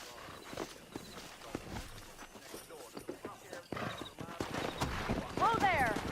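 Horses in the Xbox 360 game Red Dead Redemption clip-clop and gallop, with irregular hoofbeats that quicken and grow louder toward the end, mixed with a whinny, while characters talk.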